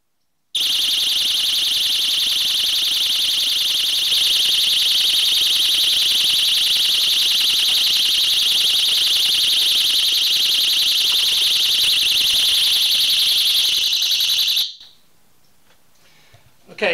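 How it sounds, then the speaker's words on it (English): A generator power-back alarm sounds a loud, steady, piercing electronic tone that runs continuously for about fourteen seconds and then cuts off abruptly, leaving near silence. "as soon as I put the meter in, the alarm should go off"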